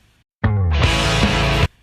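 A short sampled bit of a song opens with a deep, low bass boom that leads into a dense, full-band section. It plays for about a second, loud and upfront, then stops abruptly.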